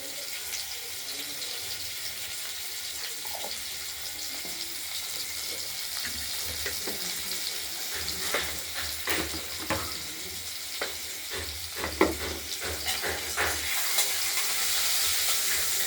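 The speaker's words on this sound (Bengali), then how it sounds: "দিয়ে কেটে রাখা আলুগুলো হালকা ভেজে নেব।" Cut potatoes with turmeric and salt fry in a pan with a steady sizzle that grows busier, broken by scraping stirs and a few sharper clinks near the end, with no clear talking.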